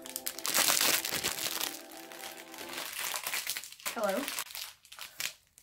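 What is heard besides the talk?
crinkling sound, ASMR trigger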